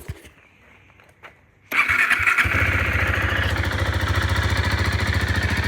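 KTM RC 390 BS6 motorcycle cranking after sitting unused for several days: a short starter whir, then the single-cylinder engine catches abruptly and settles into a loud, steady, close-up idle with a pulsing low thump, no voices.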